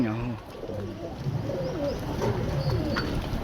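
Several pigeons coo in overlapping, rolling calls close by, continuous through the clip, while a person speaks briefly at the start.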